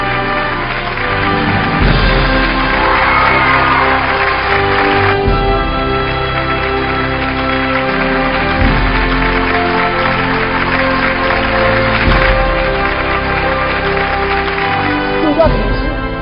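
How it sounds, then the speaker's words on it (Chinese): Audience applause greets a performer at an award ceremony for the 20th anniversary of Suzhou TV's storytelling program. The clapping runs steadily for the whole stretch, mixed with music and a voice over the top. "掌声有请"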